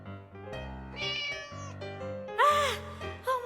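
Cat meowing in a series of drawn-out, rising and falling meows with harmonics, fairly close and clear, the loudest cry near the end, heard alone.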